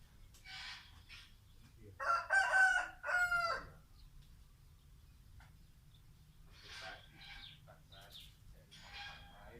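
A rooster crows at a rural bamboo-house building site, one loud, clear crow followed by shorter, fainter calls, with no speech over it.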